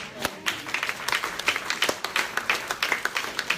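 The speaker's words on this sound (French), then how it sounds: "Est-ce qu'on peut acclamer Jésus-Christ?" A church congregation claps in acclaim of Jesus Christ, quick uneven handclaps of moderate loudness that come in a steady run of bursts, with faint voices underneath.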